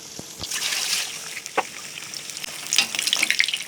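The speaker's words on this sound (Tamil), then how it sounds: "வாழைப்பழத்தை நம்ம செஞ்சு வச்சுருந்த மாவில் முக்கி போட்டுக்கலாம்" Banana bajji, ripe banana slices dipped in batter, frying in hot oil: a steady hiss of sizzling and bubbling with a few soft clinks and taps, close and moderately loud.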